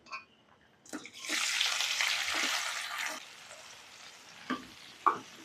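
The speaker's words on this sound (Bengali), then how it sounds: "পেঁয়াজটাকে আমি হালকা লাল করে ভেজে নিই" Thin-sliced onions hit hot oil in a wok with a loud burst of sizzling that eases into a softer fry, with a few spatula scrapes and taps before and after.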